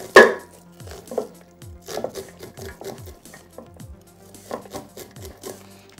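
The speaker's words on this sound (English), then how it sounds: "we're just going to cut down and cut all the kernels off this way" A knife cuts kernels off a fresh corn cob with close, crisp scraping strokes, roughly one per second, steady and rhythmic with no voices.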